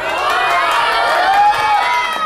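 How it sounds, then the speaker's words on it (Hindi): A studio audience at a weekend talk show hoots and cheers, a loud sustained crowd roar with overlapping shouts and whoops that stays steady throughout. "ये हूटिंग बहुत जरूरी"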